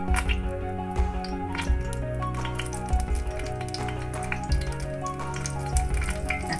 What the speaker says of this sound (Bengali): এর মধ্যে আমি একটু শুকনো লঙ্কা ফোড়ন দিলাম